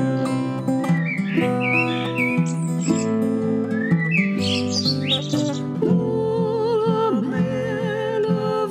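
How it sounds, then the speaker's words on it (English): Blackbird calls sound as bright chirps and whistled phrases woven through continuous, loud, layered music that plays throughout. "Ancient calls of the blackbird"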